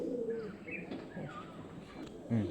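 A male pigeon of a fancy breed kept in a loft gives soft, low cooing calls that come in short phrases, close by and fairly quiet against a faint background.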